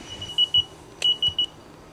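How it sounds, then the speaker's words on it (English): Electronic chime from a car warning about keys left in the ignition: five short, high, evenly pitched beeps in two quick groups, moderately loud over quiet background hum. "you hear that beeping noise in the background?"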